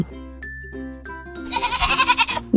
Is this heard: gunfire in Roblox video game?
no